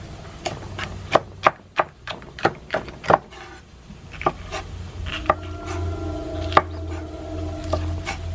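A knife chopping a very hot pepper on a board for a tomato salad, a run of about eight sharp, evenly spaced close knocks followed by a few scattered cuts and light scraping.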